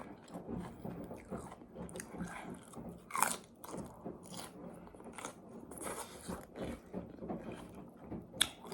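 Close, quiet eating of fried chicken, with irregular crunchy bites and soft chewing, plus a couple of sharper crackles, alone without talk.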